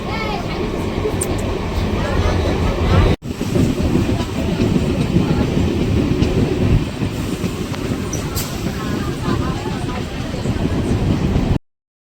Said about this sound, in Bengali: এই দেখো আমাদের ট্রেন ছেড়ে দিয়েছে